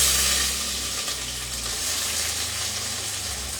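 Onions hit hot oil seasoned with cumin and whole spices while making chicken biryani, producing a loud, steady, close sizzle with a continuous crackling hiss.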